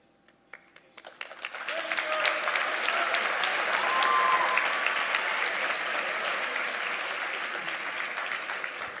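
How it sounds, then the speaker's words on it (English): Graduation audience in a high school auditorium in Jeddah bursting into applause: a few scattered claps swell within two seconds into a loud, sustained roar of clapping from a large crowd that holds steady before easing slightly. "when the audience claps like this, at a moment like this"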